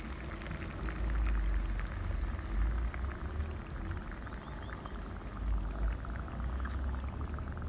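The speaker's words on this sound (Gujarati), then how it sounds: "અને આ વઘાર રેડવાનો છે આપણે ઊંધિયા પર." Hot oil tempering with sesame and coriander is poured over green undhiyu, bringing low, bubbling sizzles that swell and ease in waves. The sound is close and moderately quiet, with no talking.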